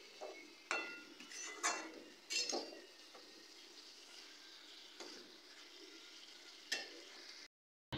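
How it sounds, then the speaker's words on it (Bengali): Elephant foot yam being stirred and fried in a pan with a splash of water, soft sizzling under a few spoon scrapes and clinks early on, then a steadier low fry with one more scrape near the end. "সামান্য জল দিয়ে দিয়ে আমি ওলটাকে কষিয়ে নিয়েছি।"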